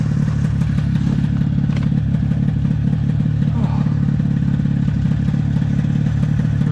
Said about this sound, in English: for a 50-year-old snowmobile, it fires right up like that and goes for a ride